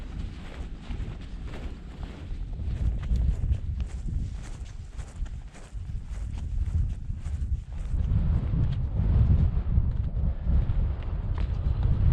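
Strong wind buffets the microphone on the exposed winter summit of Kidsty Pike in the Lake District, a continuous low roar that swells louder toward the end, with no voices.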